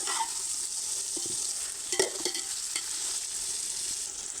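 Chicken pieces sizzle in masala in a pan with a bright, steady fry hiss, broken by a few scraping clicks as a spoon stirs them, close by and without talk.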